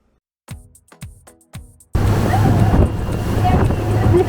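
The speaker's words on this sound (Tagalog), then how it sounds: "Big waves." Big sea waves near Sai Kung, Hong Kong, rush and roar loudly and steadily with heavy wind buffeting the microphone, following a few short bursts of voices at the start.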